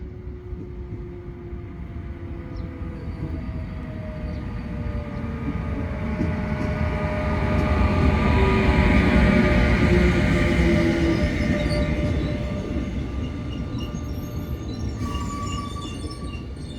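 A train approaches a station on a foggy day, a low rumbling roll that swells gradually to a peak midway and then eases, with faint high squeals and tones above it and no talking.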